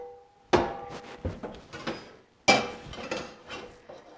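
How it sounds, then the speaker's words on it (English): A frying pan lifted out in a home kitchen, giving a few sharp metallic clanks and thunks spaced over several seconds, close and fairly loud, with no talking. "Let me grab my frying pan"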